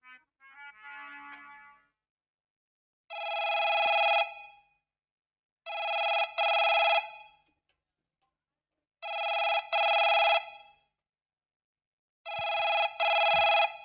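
A mobile number is dialed and a phone rings on the line: a brief tone first, then four long, loud, evenly spaced double-pulsed rings separated by gaps of silence.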